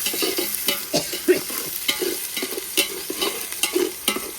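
Wooden stick stirring a big pot of meat curry with green chillies, cooked for a village meat feast, giving repeated scraping, sloshing strokes at a steady rhythm, close and moderately loud over a faint sizzle.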